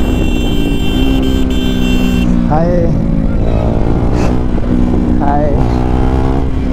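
A motorbike rides along village roads, its engine droning steadily and loud throughout with harmonic whine, while excited voices shout and talk over it.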